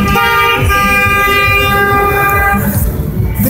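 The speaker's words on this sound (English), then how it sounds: "you honk at them" A loud, sustained horn blares close by from a vehicle, a steady multi-tone honk held for several seconds over traffic noise.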